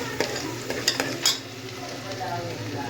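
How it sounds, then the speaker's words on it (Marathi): Onion frying in a pan for Nashik-style misal, a steady sizzle with a spoon scraping and clinking against the pan a few times early on. "आता हा कांदा लाल होऊस्तर आपल्याला व्यवस्थित होऊन द्यायचा आहे, जाळू द्यायचा नाही आहे, लालसर होऊ द्यायचं आहे."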